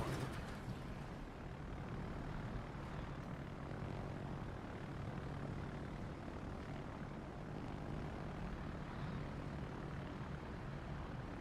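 Fighter aircraft taking off in a video game, a quiet, continuous engine drone that stays steady and unbroken from start to finish with no voices.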